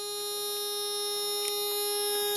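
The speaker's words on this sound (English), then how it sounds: "Sorry for the buzzing. I still have to pull the fuse on this alarm on this Miata." A Mazda Miata's car alarm gives a continuous high electronic buzz, a steady tone with bright harmonics, sounding without pause at close range under faint background noise.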